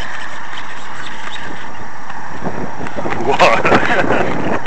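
Strong gusty wind buffets the microphone at an RC plane flying field, a loud continuous roar with rough bursts, and a voice is heard under it.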